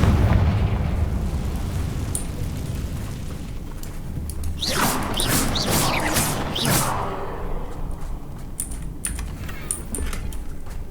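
The fiery Confringo spell from the Hogwarts Legacy video game bursts in a loud crackling explosion over a few seconds, set against steady background noise and clicking keyboard taps.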